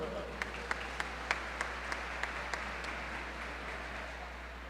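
Church audience applauding during a sermon at an evangelical gathering, rhythmic clapping at a moderate pace over a steady low hum, somewhat distant and fairly faint.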